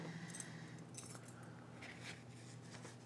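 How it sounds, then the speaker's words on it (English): A spare set of Land Cruiser keys jangles faintly and close by, with a few soft metallic clinks scattered over a few seconds against a quiet background, with no talk. "My right cargo pocket contains a spare set of Land Cruiser keys"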